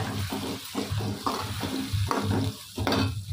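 Onions and freshly ground paste sizzle and fry in hot oil in a pan and are stirred in bursts, giving a steady, close crackling hiss with rhythmic scraping surges.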